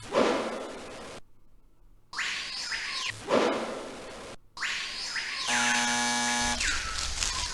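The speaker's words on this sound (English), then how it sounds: "That sound means that the alarm on the door has reactivated." In the video game The Space Bar, a door alarm reactivates with harsh electronic buzzing bursts and sweeping whooshes, broken by short silent gaps, then a steady layered alarm tone.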